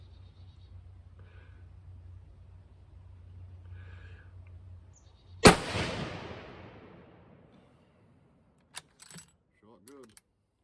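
A single loud rifle shot from a 257 Weatherby chambered rifle fire-forming 7mm Remington Magnum brass, a sharp close crack with a long decaying echo, followed by faint clicks and metallic handling noises of the action.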